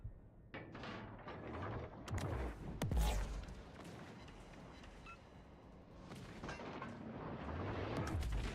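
Weapons fire hitting a ship in the Star Trek Legends video game: several sharp impact bursts and booms with a rumbling low bed, heaviest around the middle, moderately loud with no talk.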